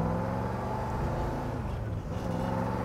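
A 1965 Ford Mustang convertible on a road drive, its exhaust giving a steady, loud, throaty rumble that fills the whole clip with no break and no one talking over it.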